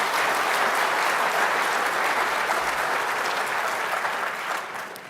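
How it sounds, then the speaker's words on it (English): Admitted students at a University of Wisconsin-Madison Future Badger Day applaud themselves, a loud, dense, sustained burst of crowd clapping that starts at full strength and fades slightly at the close. "Let's give yourselves a round of applause for that."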